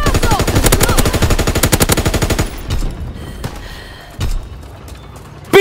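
Rapid machine-gun fire rattles loud and close in a steady burst for over two seconds, then breaks off into scattered thumps and distant shots in a World War II tank battle near a castle.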